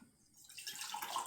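Herbal tea pours into a cup in a short, soft trickle that starts faint and swells into a bright, steady stream.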